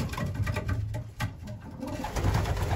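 Breeding birds in a pen, hens laying and pairing up under lights, call and coo steadily and close by, with a soft rhythmic rustle throughout.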